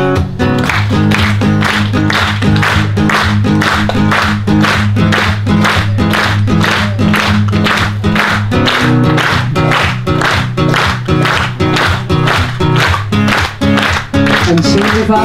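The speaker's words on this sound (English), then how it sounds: "I want you to clap your hands." Audience at a Vedanta retreat in Northern California clapping hands in steady rhythm along with loud music and singing, beats dense and continuous throughout.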